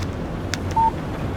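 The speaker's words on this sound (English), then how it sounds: "Text message from Barry." A brief electronic beep sounds as a phone text alert in the Alan Wake video game, a single short tone over low ambient wind and game background.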